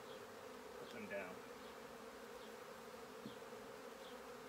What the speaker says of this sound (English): These are really lovely docile bees.